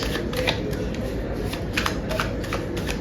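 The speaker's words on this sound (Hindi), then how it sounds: "जब तक मैं कार्ड शफल कर रही हूँ" Tarot cards being shuffled in continuous, dense riffling and shuffling for about three seconds, steady and close.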